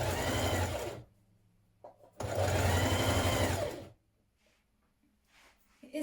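A sewing machine stitches a double fold hem on a dress in two loud, close whirring runs of about a second and a half each, separated by quiet pauses with faint handling clicks.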